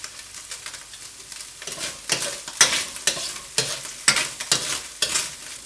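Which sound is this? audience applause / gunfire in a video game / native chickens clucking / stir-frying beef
stir-frying beef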